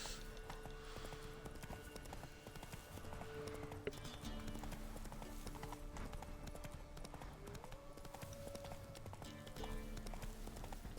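Horse hooves clip-clopping in a steady rhythm under music in The Witcher 3, set in the Velen region, continuous and moderately close with no voices.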